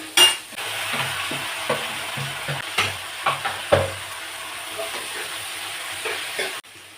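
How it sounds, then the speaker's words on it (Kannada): Onions fry in a pan with a soft background sizzle, while a spoon scrapes and taps the pan in a series of irregular knocks; the sound cuts off at the end. "ಈ ಕಡೆಗೆ ಈರುಳ್ಳಿ ಫ್ರೈ ಆಗೋಯ್ತು"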